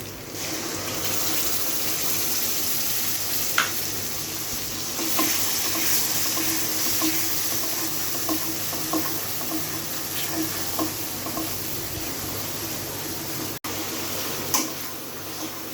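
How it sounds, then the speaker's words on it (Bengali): Mustard spice paste tipped into hot oil with onions for a hilsa fish curry, giving a steady close sizzle and frying hiss with occasional stirring scrapes and clinks throughout. "তো এখন এই মিক্সটা আমি এই মশলার মধ্যে দিয়ে দেব, তেল পেঁয়াজের মধ্যে।"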